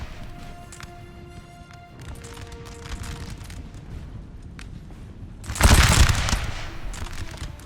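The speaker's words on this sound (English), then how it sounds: "Firing so close and getting so few hits" Musket volley fire in the video game Napoleon: Total War, a battle in which low rumbling background gives way to a sudden loud, crackling burst of massed shots that trails off into scattered firing.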